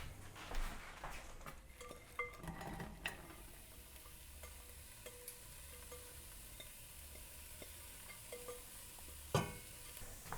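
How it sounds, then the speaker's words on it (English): Leeks sautéing in salted butter in a pan on the stove over medium-high heat give a faint, steady sizzle, broken by a few light clicks and scrapes of stirring. "We'll let that saute 5 to 10 minutes or just until the leek is nice and softened."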